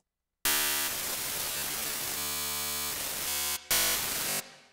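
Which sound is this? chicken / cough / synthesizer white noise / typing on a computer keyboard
synthesizer white noise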